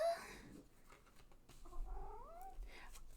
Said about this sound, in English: Yes, Foolie, you're a cat.